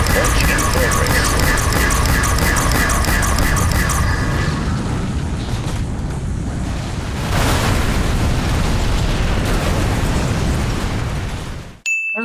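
A rocket launches in Call of Duty Zombies on the Ascension map, a loud, sustained roaring rumble lasting about twelve seconds. Steady tonal beeps sound over it for the first few seconds, and the roar cuts off abruptly at the end.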